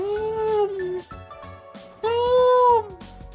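A cat meows in The Legend of Heroes: Trails to Azure: two long, drawn-out, loud meows, each rising and then falling away, separated by a short pause.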